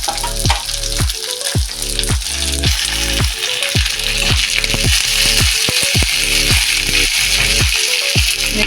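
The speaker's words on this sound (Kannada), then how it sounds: "ಸ್ವಲ್ಪ ಫ್ರೈ ಆಗಲಿ." Chopped chilli and onion fry loudly in a pan, a dense continuous sizzle broken by regular scraping strokes of a spatula at a steady pace, close and with no voices.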